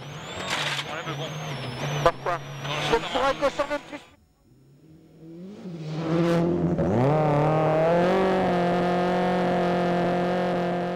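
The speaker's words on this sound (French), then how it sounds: "très mauvais départ pour Marcus Gronholm, qui a complètement fait patiner la Ford" A Ford rally car at a WRC Rally Norway stage start on studded tires spins its wheels, engine revving hard and climbing to a loud sustained roar after sharp bursts, with a commentator talking over it.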